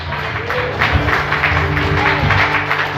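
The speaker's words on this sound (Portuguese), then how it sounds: "Aplaude o Senhor" Congregation in a church applauding together, dense sustained clapping with crowd murmur filling the whole stretch at steady, fairly loud level.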